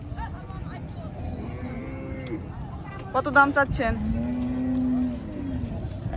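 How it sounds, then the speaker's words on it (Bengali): Cattle at a busy Eid livestock market where animals are sold for Qurbani. One long, loud, low moo rises mid-clip over steady crowd babble, and people talk close by. "কয়টা গরু নিয়ে আইছেন?"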